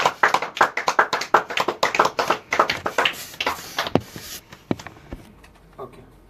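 A congregation at a Christian worship gathering claps to acclaim the Lord in quick, fairly steady rhythm. The clapping fades after about four seconds into a few scattered claps.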